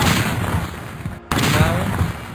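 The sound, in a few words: gunshots in a video game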